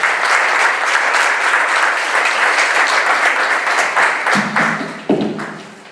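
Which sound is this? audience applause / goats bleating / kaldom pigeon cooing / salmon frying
audience applause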